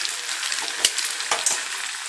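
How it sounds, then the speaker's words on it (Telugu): Coconut masala for Rayalaseema mutton biryani frying in a pan, a dense continuous crackling sizzle up close, with a couple of brief knocks of a spoon, no talking. "కొబ్బరి మసాలా వేసి బాగా వేయించాలి"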